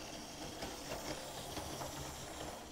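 A small OO gauge model steam locomotive shunting on a compact boxfile layout gives a steady, faint hiss and soft rolling rumble that runs throughout without clear beats.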